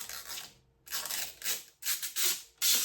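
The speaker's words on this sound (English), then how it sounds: "Let's peel this plastic here." Protective plastic film is pulled off a strut bar for a Mitsubishi EVO 7 in several loud, close, hissing rips, each stretch of peeling separated by short pauses.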